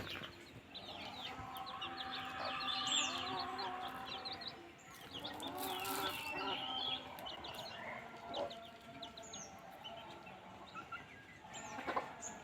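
A rooster and hens roam free outdoors in wet, green Konkan surroundings, soft clucks and chirpy calls scattered over a steady faint background, with occasional louder squawks.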